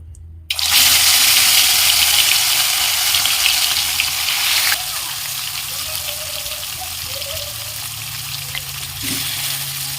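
Fish coated with salt and turmeric drop into hot oil, setting off a loud, steady sizzle that starts abruptly and then eases to a softer, continuous frying hiss.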